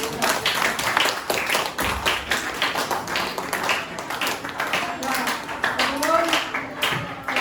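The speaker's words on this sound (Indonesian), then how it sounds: "kita berikan dulu aplaus untuk pertemuan hari ini" A classroom breaks into applause at the end of a lesson, many hands clapping together steadily for several seconds, close and fairly loud, with some chatter mixed in.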